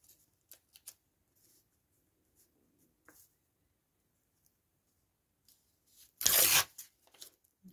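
Paper envelope being folded over to seal it while making journal pockets: faint crinkles and taps early on, then a single loud, close rustling swish of paper near the end, followed by small handling sounds.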